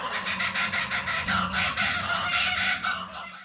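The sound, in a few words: bird mimicking calls of other species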